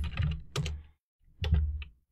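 Computer keyboard typing while entering a username and password for a telnet router login: two short bursts of close, crisp key clicks separated by a brief pause.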